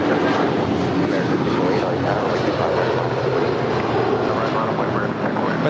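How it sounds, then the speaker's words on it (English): A United Boeing 757-200 jet departing LAX for Newark, its engines a loud, steady broadband roar that fills the whole stretch without letup, with a voice faintly audible beneath the noise. "this departure is United 2617 coming in, or departing to Newark Liberty. It's 757-200."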